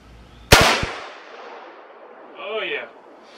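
A single sharp rifle shot from a CVA Cascade rifle at a sighting-in range cracks loudly and decays quickly, followed by a brief voice a couple of seconds later.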